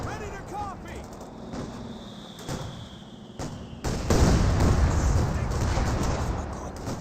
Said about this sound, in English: that was definitely a big line of mortars just rain on down right there